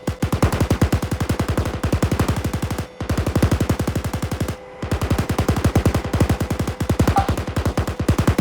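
An M1A1 Abrams coaxial machine gun in ArmA 3 fires long rapid bursts, a steady rattling stream of shots broken by three brief pauses, loud and close with no talk.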